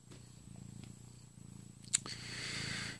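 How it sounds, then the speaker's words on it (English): A cat purrs close by in a rhythmic, low, pulsing rumble, with a brief sharp click near the middle and soft rustling toward the end. "say hello to the cat."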